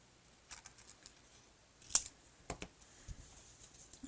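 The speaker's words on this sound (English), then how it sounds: "to cut the acetate about here" Scissors snipping through a clear acetate sheet for a slide-reveal pop-up card, a few faint, crisp cuts spaced apart with one sharper snip in a quiet room.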